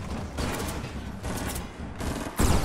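Bursts of gunfire in the video game Fortnite, several dense volleys crackling over a steady noisy background, with a louder burst at the end; no talk.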